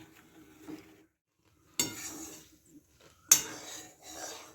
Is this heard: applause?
no